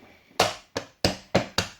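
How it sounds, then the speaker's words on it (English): A deck of tarot cards is handled in a final shuffle, giving five sharp, close knocks of the deck against a surface at an uneven rhythm, with no voices. "Okay, this is my last shuffle."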